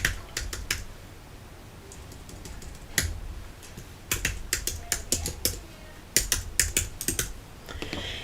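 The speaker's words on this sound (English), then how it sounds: "I'm going to type happy birthday again" Typing on a computer keyboard, close and fairly quiet, with short bursts of crisp key clicks separated by pauses.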